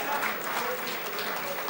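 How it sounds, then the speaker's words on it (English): An audience at a convention session applauds steadily throughout, a continuous warm patter of clapping hands. "Let's have a warm round of applause"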